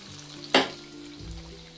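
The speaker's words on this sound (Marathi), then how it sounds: "आता आपण हे मंगोळे मीडियम फ्लेमवरती थोडं बारीक मीडियमच्या मध्ये आपण याला फ्राय होऊ देऊ" Moong dal mangode frying in oil over a medium flame: one sharp sizzling burst as batter meets the hot oil, then a quieter, steady background crackle.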